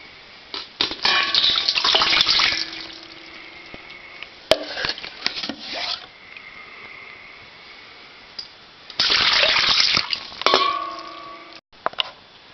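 Water is bailed out of a toilet tank and bowl with a bucket while winterizing a house, with close splashing, scooping and sloshing in bursts, hard clanks of the bucket against porcelain, and quiet pauses between.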